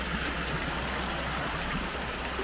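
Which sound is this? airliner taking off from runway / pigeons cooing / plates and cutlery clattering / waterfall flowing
waterfall flowing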